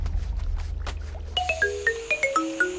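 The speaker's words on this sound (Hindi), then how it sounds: "ये स्मिता इस वक्त फोन क्यों कर रही है?" A mobile phone ringtone plays a bright rising and falling chime melody of repeated electronic tones for an incoming call, loud and close, with no one talking over it.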